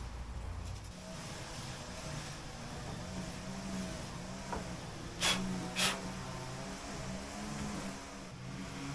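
A weed eater running in a neighbouring yard out back, a continuous droning engine with wavering pitch as it revs, distant and steady under faint nearby clicks, without talk.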